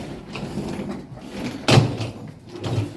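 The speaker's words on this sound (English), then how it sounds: "Doors opening. Lift going down." Lift doors at a footbridge open with one sharp clunk partway through, amid a quiet, hollow ambient hum.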